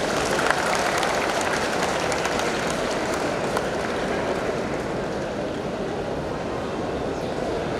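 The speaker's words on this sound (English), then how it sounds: "The applause by the audience suggests how much you are loved and respected here, sir." An audience at a medical college ceremony applauds after a presidential address, the clapping a dense, steady, hissing roar that holds evenly throughout without any talk.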